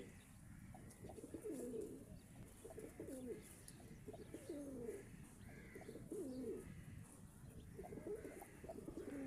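Pigeons on a rooftop coo in a soft, rounded rhythm, several throaty phrases repeating at close range over a low, steady outdoor background with faint chirps, and no voices.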